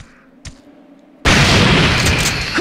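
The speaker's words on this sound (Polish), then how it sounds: "to teraz wybuchło." A sudden loud explosion in the video game Resident Evil 3 bursts in after quiet background, followed by a sustained roaring rumble.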